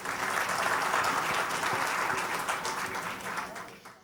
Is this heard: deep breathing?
no